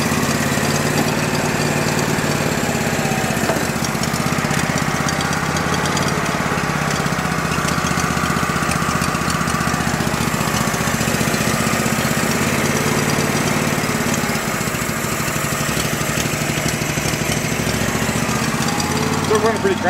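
The small engine of an old Go-For digger bought at an estate sale runs rough and close by, a steady buzzing chug with uneven, sputtering pulses throughout; faint voices sit beneath it.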